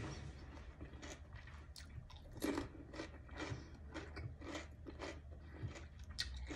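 Someone bites and chews small bits of salty dried fish, producing repeated close crunchy chewing sounds in an uneven rhythm with no talking.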